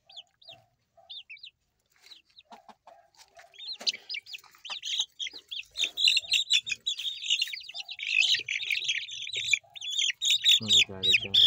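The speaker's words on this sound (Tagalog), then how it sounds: "Nagagalit yung hen." An angry hen clucks and squawks among young chickens of mixed hens and roosters, with sharp agitated calls and chirps that build louder and denser toward the end, close by.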